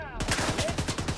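Rapid automatic gunfire from the video game The Division 2, a quick burst of evenly spaced loud shots beginning after a brief moment and running to the end.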